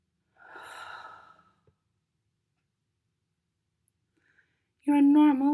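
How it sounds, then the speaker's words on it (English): Slow exhalation during a guided meditation, a single soft breathy sigh near the start, then near silence, before a voice begins speaking at the end. "Take a few breaths."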